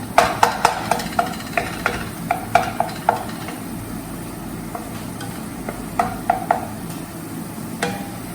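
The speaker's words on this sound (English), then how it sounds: "Till then you have to go on mixing it nicely, stirring it." Tomato frying in oil in a pan, with a steady sizzle underneath repeated sharp clicks and scrapes of a spoon stirring against the pan, close by and with no talking.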